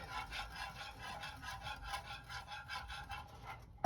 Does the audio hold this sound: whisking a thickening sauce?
yes